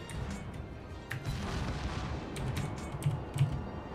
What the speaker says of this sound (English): Secondary is going off.